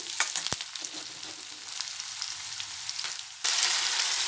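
Onions sauté in a pan for tiffin sambar with a steady, close sizzle and light stirring scrapes, swelling louder near the end.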